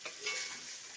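Eggplant sizzles in hot oil, a steady close hiss that holds for about a second with no talk.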